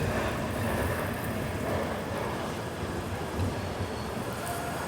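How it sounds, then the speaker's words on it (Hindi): Mumbai Amravati Superfast Express pulling away from Bhusawal Junction after a scheduled halt, heard from inside as a steady broadband rumble of wheels and running gear, continuous and fairly even with no talk. "सो 5 मिनट के शेड्यूल हॉल्ट के बाद हमारी ट्रेन निकली है भुसावल"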